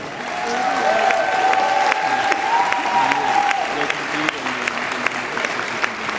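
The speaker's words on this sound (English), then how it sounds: "Audience, give them all of your support and applause for the last dance in this final" Audience at a dance competition final applauds the couples, a full steady wash of clapping with some cheering, while a voice carries on over it and faint music hums underneath.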